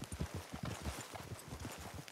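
Horse hooves clip-clop at a steady walking rhythm in Red Dead Redemption 2, the repeated dull thuds close and even throughout.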